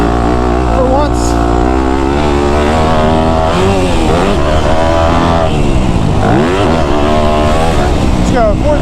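A motocross bike engine on a dirt track snarls loudly up close as the rider shifts through the gears, its pitch climbing and dropping with throttle changes while a voice talks over the riding.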